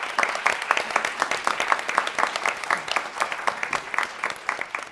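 A room full of people claps for award winners at a Champions of Change ceremony, dense steady applause rolling on for several seconds, loud and close with no voices on top.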